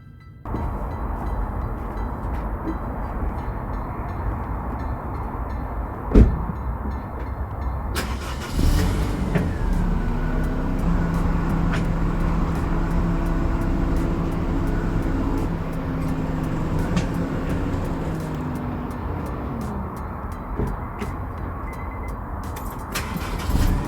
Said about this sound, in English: time to take it for a test drive, see if it's any better